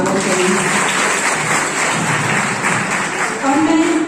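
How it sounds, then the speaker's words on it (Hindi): Audience applause welcoming a guest at a degree college event in India, a loud continuous wash of clapping from a sizable crowd with voices talking underneath. "आप सभी तालियां बजाकर सर का स्वागत करेंगे।"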